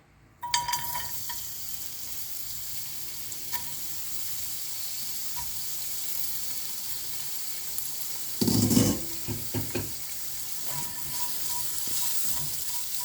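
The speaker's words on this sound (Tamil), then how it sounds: "இதையும் நல்லா வறுத்துக்கணும். நான் இது லேசாக கலர் மாறுற வரைக்கும் நல்லா வறுத்துருக்கேன் பாருங்கள்." Ingredients for pirandai chutney roasting in a little oil in a pan, with a steady soft sizzle and occasional louder stirring scrapes close by, no talking.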